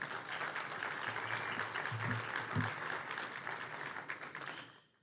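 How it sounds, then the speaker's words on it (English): Audience applause at an international symposium on a national multicultural strategy: dense, steady clapping from a sizeable crowd, a brief voice partway through, fading out at the end. "So can we give him a round of applause, please?"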